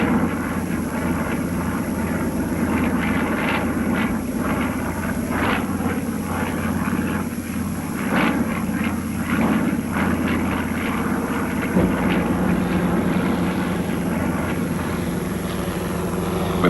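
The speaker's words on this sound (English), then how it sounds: "the plane flies dangerously close to the ground as the pilot makes a pass at the target" Stunt plane flying dangerously low over the ground with a stuntman on its rope ladder, a loud, continuous propeller-engine drone that holds steady throughout, with a faint high-pitched tone above it.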